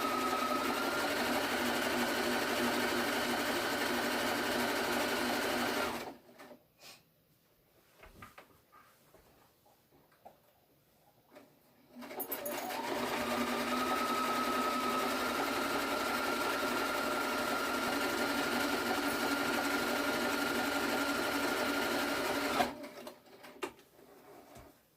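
A sewing machine stitches a cattywompus quilt block in two long steady runs of rapid whirring, separated by a quiet pause with faint handling noises, and a brief clunk at the end.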